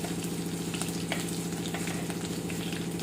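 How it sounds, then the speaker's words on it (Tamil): Chopped ginger fries in a pan with a steady, close crackling sizzle that holds at an even level throughout, with a few brief stirring clicks and no talking. "இஞ்சி சின்னதாக அரிஞ்சிக்கிற இஞ்சி போடுவோம் இஞ்சி கொஞ்சம் நல்லா ட்ரை பண்ணணும்"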